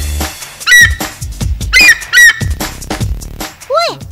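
Loud, harsh squawking calls of an eagle, several piercing cries in quick succession, close up, with a few lower rumbling noises between.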